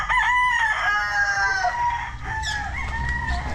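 A rooster crows loudly and close by on a tidy backyard farm in San Agustin, Ibaan, Batangas, one long drawn-out call over a busy bed of clucking hens and farmyard noise.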